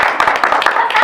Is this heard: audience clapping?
yes